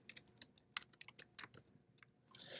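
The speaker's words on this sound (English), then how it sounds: "I want you to type in Puerto Rico." Typing on a computer keyboard, a quick run of crisp, close key clicks in an uneven rhythm, then a brief soft rustle, with no talking.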